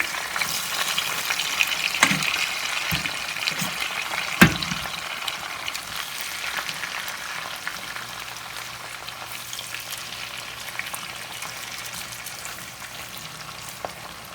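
Almond-coated, bacon-stuffed turkey fries in a pan with a steady sizzle, broken by a few sharp clacks and scrapes as it is turned, then a smoother, continuous frying hiss.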